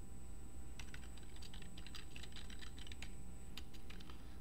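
Quiet, quick keystrokes on a computer keyboard as Java code is typed, in irregular bursts of soft clicks over a faint steady background hum.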